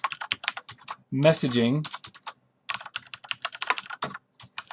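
Rapid clicking of computer keyboard typing while writing code, scattered keystrokes around a short burst of speech and continuing after it.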